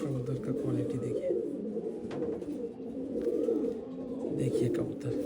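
Pigeons coo steadily in a home loft, a continuous low burbling chorus close by, with someone talking over it throughout.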